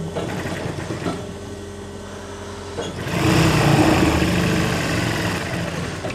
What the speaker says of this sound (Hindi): इस निशान के ऊपर सिलाई लगानी है